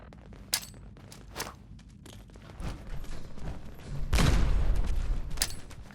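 Scattered gunshots crack in Fallout 4, a few sharp isolated shots early on, then a louder burst of fire with rumbling impact near the end, with no talking.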